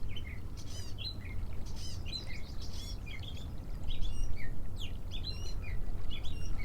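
Small birds chirp and twitter in quick bursts beside a desert river, the bright calls fairly close over a steady low rushing background.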